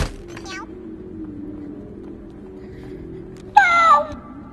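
Small crumbly cats from a Bonelab video game mod meow, with a couple of short high meows near the start and a louder drawn-out meow near the end, over low background hum and a faint voice.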